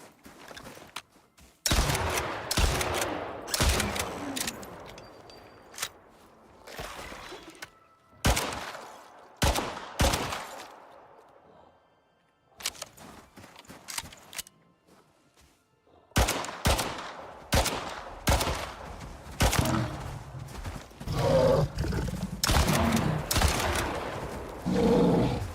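Pistol gunfire in the survival video game Icarus: bursts of sharp shots come in scattered clusters with short gaps between them, loud and close, alongside game ambience, while someone talks occasionally.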